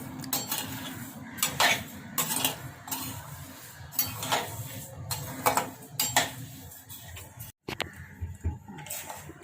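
Rice grains being roasted and stirred in a metal pan on the stove for chakli flour, with a series of scraping, clinking spoon strokes against the pan at an irregular, steady pace and a low background hum.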